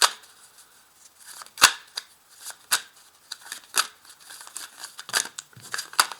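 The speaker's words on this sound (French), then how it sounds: "je vais quand même faire une découpe ici" A deck of tarot cards being cut and handled, with repeated sharp snapping flicks and papery riffles at irregular intervals, close and fairly loud.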